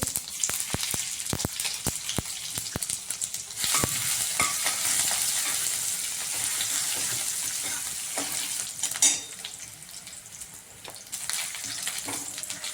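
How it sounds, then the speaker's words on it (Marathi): Cumin and mustard seeds hit hot oil in a pan, giving a steady close sizzle with sharp crackles and pops scattered throughout, loud and alone without talk. "इथे आपलं तेल गरम झालंय. आता मी जिरे आणि मोहरी टाकते."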